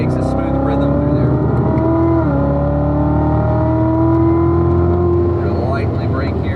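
Chevrolet Corvette engine on a racetrack, a loud steady drone that drops in pitch as it downshifts to third gear, then holds a sustained pull, with a voice talking over it.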